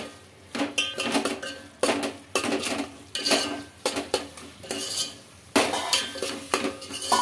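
Spices with ginger-garlic paste and garam masala stir-fried in a pan for egg dum biryani: repeated metal spoon scrapes and clanks against the pan in an uneven rhythm, close and clear, with faint sizzling beneath.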